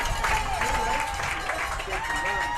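Crowd cheering and applause at a high school football game after a touchdown, a steady wash of noise throughout with a commentator talking over it.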